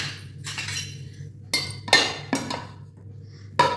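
Steaming hot rice being served onto a plate in a home kitchen, with scattered metallic clinks and scrapes of a utensil against the dish, several distinct knocks spaced irregularly over a quiet background.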